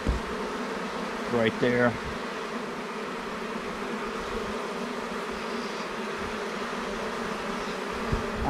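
A steady, close drone of honey bees buzzing around an open hive fills the whole stretch, with a brief spoken remark early on.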